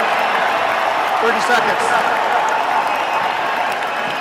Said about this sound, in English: The Illini fans are applauding their team.